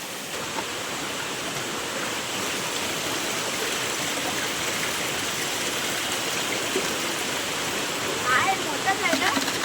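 Water rushes and splashes steadily while crabs are washed, a continuous noisy wash of running water close by, with a few brief voices near the end.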